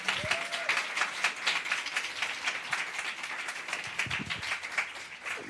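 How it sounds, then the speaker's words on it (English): An evening audience claps for a mentoring panel: sustained applause from a moderate crowd, individual claps audible within the wash, a faint voice briefly cutting through near the start. "Please give them a round of applause,"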